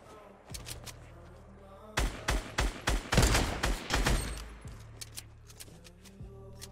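Gunfire in the video game Fortnite during a build fight, a dense burst of rapid loud shots in the middle of the clip, with scattered single shots before and after over a low background hum.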